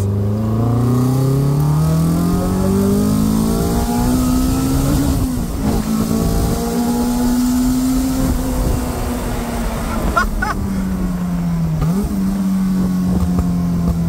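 A Caterham 485 S sports car engine roars continuously, its pitch climbing and dipping as the revs rise and fall, loud and close throughout.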